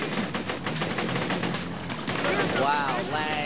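Player gunfire in Borderlands 2, rapid repeated shots forming a steady burst, with voices talking over parts of it.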